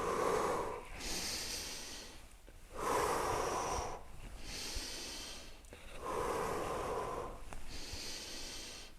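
Heavy breathing during handstand wall drills, with several long, forceful exhales and sharp inhales in a steady rhythm, close and loud, with no talking.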